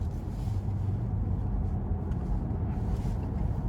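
Steady low road rumble and muffled tire noise inside the quiet cabin of a 2007 Mercedes-Benz S550 with 90K miles, passing cars reduced to a faint, soft whoosh beneath the continuous drone.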